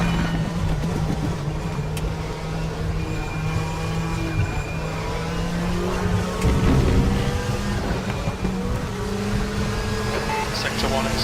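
A little Citroen race car in the RaceRoom sim racing game drones steadily with a sustained engine hum at constant revs, accompanied by a faint commentator voice in the background.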